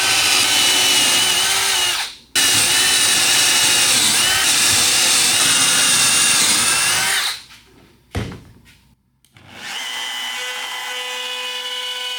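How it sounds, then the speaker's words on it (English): Power drill pre-drilling holes in a cedar fence picket: a loud, continuous high whine that runs for several seconds, stops briefly, then resumes. It ends in scraping and clatter before a lower, steady motor hum takes over. "Now I pre-drill with holes."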